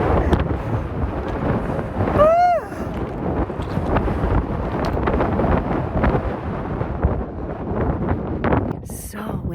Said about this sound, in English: We tried to hike, and it was so windy.